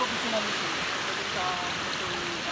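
Constant rushing water from a flowing mountain river, a steady broadband wash with faint voices underneath.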